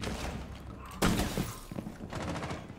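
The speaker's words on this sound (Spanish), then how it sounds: "Me gusta ese tiroteo." Gunfire from the video game Rainbow Six Siege: a sustained fusillade of rapid shots with a loud burst near the middle, then more volleys, loud and dense throughout.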